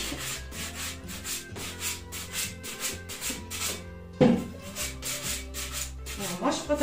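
Steady back-and-forth rubbing over a painted, candle-waxed piece to give it an aged, distressed finish, with repeated scuffing strokes close up and no talking.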